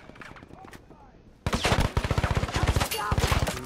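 Rapid automatic gunfire in a video game bursts in after a quieter stretch, loud and close with dense rhythmic shots continuing to the end, brief pauses between volleys.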